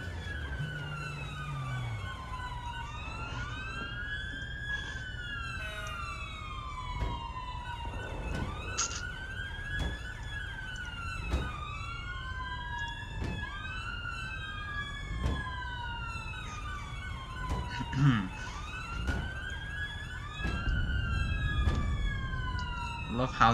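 Ambulance siren in the video game APB Reloaded, a repeating wailing rise and fall that runs the whole time at moderate distance, with engine and traffic noise below and a voice talking over it.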